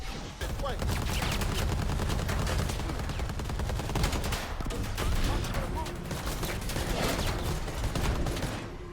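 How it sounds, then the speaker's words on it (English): Rapid bursts of small caliber gunfire in a shooter video game, dense overlapping shots running continuously at steady loudness with some background talk mixed in. "It's multiple small caliber bullets though"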